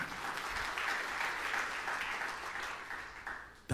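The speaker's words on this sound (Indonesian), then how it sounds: "Tepuk tangan yang meriah untuk kemuliaan Tuhan." A church congregation gives warm, continuous applause, a dense wash of many hands clapping at moderate volume that holds steady and then stops abruptly.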